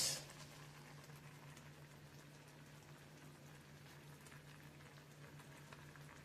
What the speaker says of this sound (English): it's bubbling away